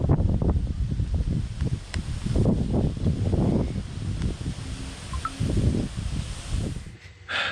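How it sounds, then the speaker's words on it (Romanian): Strong wind buffets a campsite in Corsica, roaring and gusting in uneven surges close to the microphone throughout, with no voices. "Bate un vânt aici, mâncăm pe furtună de vânt."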